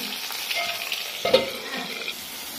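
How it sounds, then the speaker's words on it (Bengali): Slices of pointed gourd (potol) fry in oil in a pan, giving a steady close sizzle with a brief clatter of stirring midway, then the hiss settles back. "আর এই যে পটল ভাজা হচ্ছে কিন্তু"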